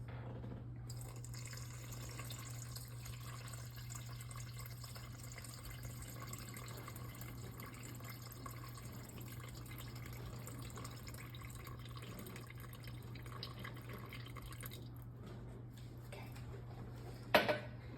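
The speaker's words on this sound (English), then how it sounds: "We're going to put in 375 grams of water." Water poured into a bowl while making bread dough from freshly milled flour, a faint steady trickle over a low constant hum, ending with a brief louder clunk near the end, with no talk.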